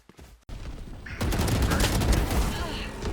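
Rapid gunfire from a gun in the video game Valorant, a dense continuous burst that starts abruptly and carries on loudly to the end.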